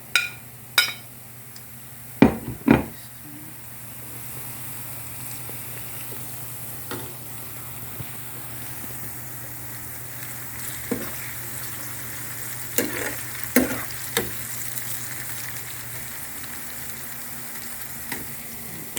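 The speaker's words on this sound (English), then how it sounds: "As you can see, the tomatoes is very fried." Tomatoes with curry powder and thyme fry in a pan, a steady low sizzle broken by sharp clinks and knocks of a spoon stirring against the pan.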